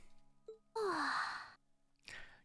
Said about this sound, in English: and Fee, of course, yawns.